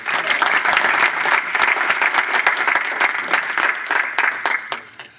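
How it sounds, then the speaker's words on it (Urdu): Audience applause at an Urdu mini mushaera poetry gathering in the San Francisco Bay Area, a dense, loud round of many hands clapping at once that holds steady for about five seconds before thinning out near the end. "تالیاں آپ سب کے لیے"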